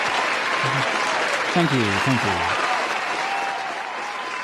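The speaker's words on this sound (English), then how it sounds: "the crowd are going crazy for it" Live crowd applauding after a performance of a song, steady sustained clapping throughout with someone briefly speaking over it.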